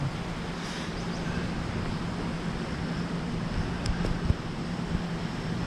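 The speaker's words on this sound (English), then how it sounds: "it got really windy, like gale force winds" Gale-force wind near the Great Salt Lake roars and buffets against the microphone, a constant rushing noise with occasional gusts and faint knocks.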